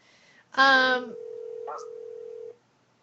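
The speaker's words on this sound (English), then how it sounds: "He was trying to ring his mobile phone." A mobile phone gives off electronic tones: a brief beep, then a louder tone that settles into a long, steady note lasting about two seconds before cutting off.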